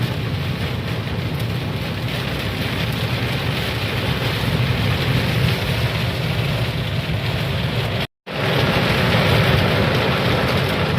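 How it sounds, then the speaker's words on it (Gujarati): Heavy monsoon rain in Mehsana, Gujarat, pours in a steady, dense roar, with wind buffeting the microphone; the downpour breaks off for an instant, then resumes just as loud. "વરસાદ જબરજસ્ત પડે છે"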